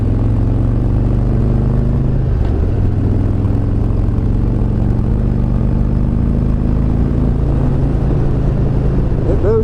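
A 2017 Harley-Davidson Road Glide with a Milwaukee 8 engine pulls up a hill, its loud, low, steady engine rumble close and continuous, with a brief shift in pitch partway through and a voice talking over it.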